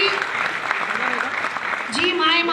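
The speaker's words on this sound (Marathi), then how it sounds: "टाळ्या अशा वाजवू नका" Clapping audience at a product presentation, dense and close, while someone speaks over it and other voices rise and fall beneath.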